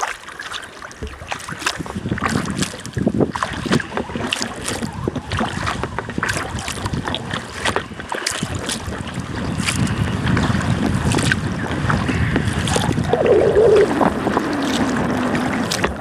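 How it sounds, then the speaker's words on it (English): Gusty wind on open water while kayaking in early spring on the Au Sable, with whitecaps kicking up. Buffeting roars against the microphone carry throughout, with sloshing water and occasional paddle or hull knocks close by. "every once in a while the wind kicks up and there's some whitecaps out there"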